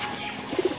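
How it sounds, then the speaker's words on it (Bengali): Pigeons gathered at a feeding spot give a soft, short burst of cooing toward the end, set against quiet background ambience with no talking. "পায়রাগুলো অনেকক্ষণ ধরে দাঁড়িয়ে রয়েছে এখানে"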